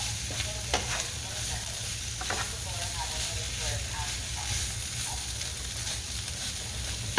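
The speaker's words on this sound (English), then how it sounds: "I'm going to let this saute for a few minutes" Vegetables for chicken corn chowder sauté in a pot, a steady close sizzle and frying hiss that runs throughout, with a few light scrapes of a stirring utensil.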